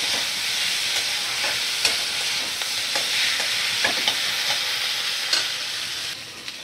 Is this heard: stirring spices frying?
yes